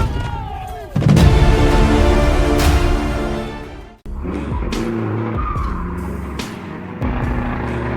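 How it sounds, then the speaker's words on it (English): A cattle truck stuck in mud revs hard with its wheels spinning, producing a loud, continuous engine roar and grinding tire noise that cuts out briefly, then starts again with sharp squealing bursts. "A cattle truck is stuck in the mud, its wheels spinning hopelessly."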